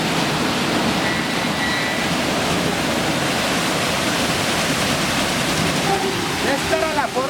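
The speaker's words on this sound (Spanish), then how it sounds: "Al cortar el agua se llenan las canastillas y comienza a coger más fuerza." Rushing water driving a Pelton wheel at an old sugar cane mill, a loud, continuous broadband roar close by with a few faint tonal squeaks near the end.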